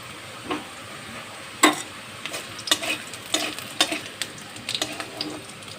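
Panch phoron spices frying in oil with bitter gourd, a soft sizzle under a run of sharp spoon scrapes and taps against the pan, close, starting sparse and getting busier.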